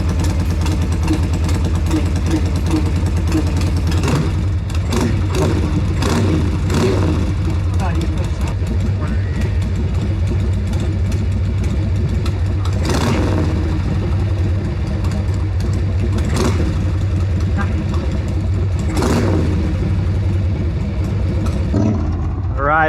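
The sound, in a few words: Sportster chopper motorcycle engine started and revved while warming up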